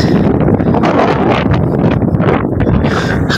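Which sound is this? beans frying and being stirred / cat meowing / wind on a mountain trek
wind on a mountain trek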